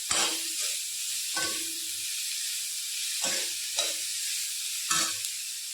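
Dried garlic and chilies, then whole cumin, sizzle in hot oil in a pan. A steady hiss is broken by about five scraping stirs, close by and with no talking.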